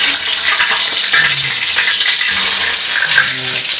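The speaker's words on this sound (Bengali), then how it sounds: "মরিচ ভাজে" Dried red chilies frying in hot mustard oil in a wok, a loud, dense, continuous sizzle and crackle that holds steady close up throughout.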